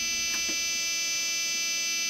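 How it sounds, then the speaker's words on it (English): An electrics warning buzzer sounds on an Iveco Evadys coach in the OMSI 2 bus simulator, a loud, unbroken electronic tone droning steadily throughout with a couple of faint clicks near the start. "And you hear that very annoying buzzer."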